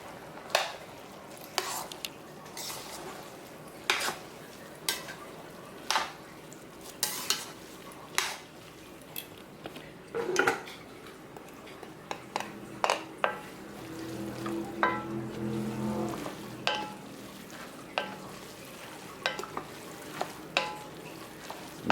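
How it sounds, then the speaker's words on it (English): Cooked linguine being stirred and tossed in a hot pan with garlic and oregano to coat it: scattered scraping and clinking of utensil against pan over a soft sizzle, with no talking. "Pull the noodles up so everything gets coated."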